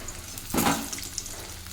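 Catla fish frying in oil as the pieces are lifted out, a moderate sizzle with a short louder burst of spatter and a scrape, then settling back to a softer crackle, with no voices.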